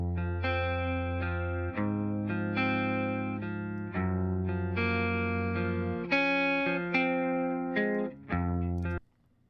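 A dry, unprocessed electric guitar track with no reverb plays sustained distorted chords that change every second or two, closely recorded and alone, and stop abruptly at the end.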